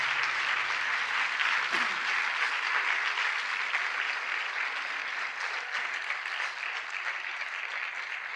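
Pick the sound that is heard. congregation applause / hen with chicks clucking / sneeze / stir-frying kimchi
congregation applause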